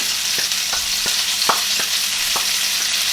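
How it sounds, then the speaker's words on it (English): Chopped onion sizzles steadily in a hot pan, close and loud, with a few soft taps of a utensil stirring through the constant hiss. "So now we're going to go ahead and add in our onion."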